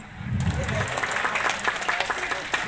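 A festival audience breaks into dense, steady applause, with a voice speaking briefly at the start.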